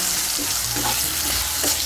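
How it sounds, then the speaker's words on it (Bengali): Potato pieces frying in oil in a pan while being stirred, for Bengali dudh shukto, give a steady close sizzle with soft scraping stir strokes throughout. "আলুটাকে তেলের সঙ্গে মিশিয়ে নিয়ে একটু ভেজে নিয়েছি"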